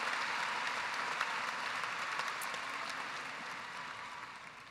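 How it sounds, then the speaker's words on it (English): Sustained applause from a crowd at a high school graduation ceremony for the graduating class, steady dense clapping at a moderate distance that gradually fades slightly over several seconds, with no talking. "let's give this class one more round of applause"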